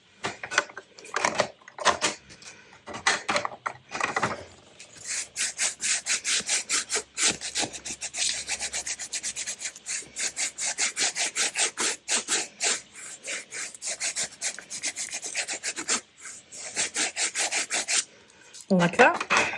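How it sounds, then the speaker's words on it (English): Rapid scratchy rubbing of a paper journal card being burnished onto a page, a long run of quick close strokes with short pauses and a brief thump near the end. "give that a bit of a burnish"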